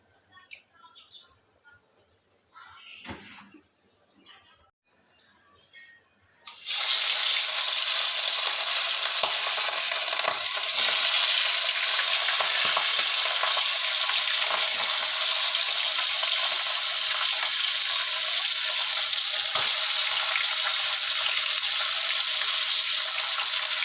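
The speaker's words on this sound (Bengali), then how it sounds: "এখানে মাছটা ভেজে নেবো কড়াই তেল দিয়ে দিলাম" Hilsa fish goes into hot oil in a wok after a few quiet handling noises, then a loud, dense, steady frying hiss runs unbroken for the rest of the time with occasional faint crackles.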